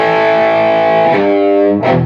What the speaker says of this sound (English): What we're going to do is hit a power chord for about 4 counts.